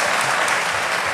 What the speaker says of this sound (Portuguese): Aplausos reais num podcast.